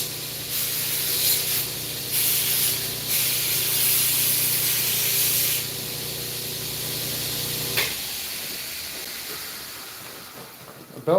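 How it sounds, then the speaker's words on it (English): A belt grinder grinds the end of a forged steel arm ring, giving a loud hissing, rasping whine in bursts with a steady motor hum beneath, cutting off abruptly near the end to leave quiet. "A belt grinder is by far the quickest and most efficient way to take off that end."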